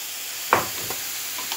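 Grated carrot and vegetables get stirred in a hot pan, a soft constant sizzle with one distinct scraping stroke and a couple of fainter ones nearby.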